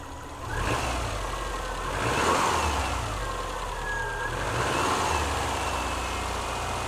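A Volkswagen Passat engine at about 700 RPM idle has its throttle opened, a steady mid-pitched hum swelling into a couple of moderate revs, fairly close and with no talking.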